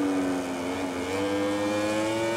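A Kawasaki Ninja MotoGP bike in the MotoGP 20 racing game at the Brno circuit holds a steady high engine whine that climbs slowly in pitch, loud and continuous with no talk over it.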